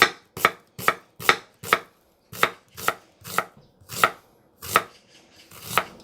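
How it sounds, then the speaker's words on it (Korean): A knife slices an onion very thinly on a cutting board, giving a dozen crisp, evenly spaced chops close up with silence between strokes. "최대, 최대한 얇게 썰어주세요"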